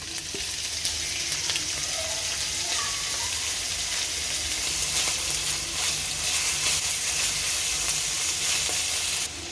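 Vegetables fry in a pan for a Chinese vegetable dish, giving a loud, continuous sizzle with faint stirring clinks throughout.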